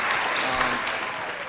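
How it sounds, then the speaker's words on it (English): An audience gives a brief round of applause, a dense wash of clapping with a voice speaking over it. "one more round of applause"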